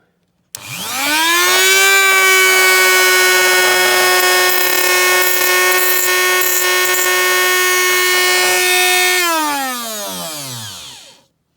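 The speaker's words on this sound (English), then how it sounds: "we're going to give the multi-tool a go" A power multi-tool spins up sharply and holds a loud, steady, tonal whine for several seconds while cutting a Crescent No.10 Jaguar saloon die-cast model car, then winds down smoothly to silence.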